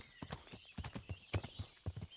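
A horse gallops cross country in Kingdom Come: Deliverance, its hooves pounding in a quick, steady rhythm of thuds, moderately quiet and close, with no talking.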